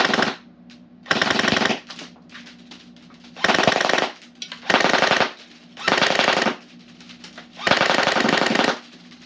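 ICS Galil airsoft gun firing six or seven full-auto bursts at a slow rate of fire, each burst a rapid rattling chatter lasting about a second, close and loud, separated by short pauses with a faint motor hum.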